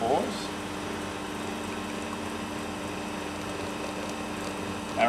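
An espresso shot pouring from a machine just after a Quamar M80e grinder blade replacement, a steady pump hum and liquid hiss holding evenly throughout.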